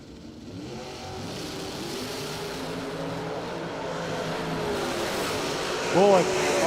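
Drag race cars, including a quick Ohio-based Mustang, launch down a doorslammer drag strip. A broad engine roar builds steadily and is heard from a distance, with a short whistling sound near the end.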